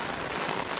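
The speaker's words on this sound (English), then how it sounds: "Now I'm stuck in the damn rain." Rain falls steadily, a dense even hiss of drops hitting surfaces outdoors, with no talking.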